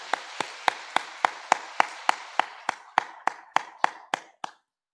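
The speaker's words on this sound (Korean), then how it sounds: "우리 다시 한번 박수로 축복하겠습니다." A church congregation applauds during a Sunday worship service. About sixteen sharp, evenly spaced claps sound in a steady rhythm before stopping abruptly.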